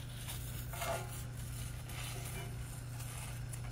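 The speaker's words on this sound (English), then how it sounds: "for this, I am just gonna use a plastic spatula" A plastic spatula scrapes and slides across the nonstick surface of an Always Pan, making soft, faint scratching strokes over a steady low hum, with no talking.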